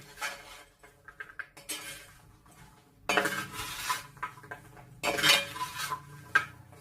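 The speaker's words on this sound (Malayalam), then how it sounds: "ഇത് നന്നായിട്ട് മിക്സ് ചെയ്യണം." Sharkara varatti, jaggery-coated banana pieces, being stirred and mixed with dry ginger powder in a pan, giving close metallic scraping and clinking of a utensil against the vessel in irregular bursts, louder in two stretches, with no talk.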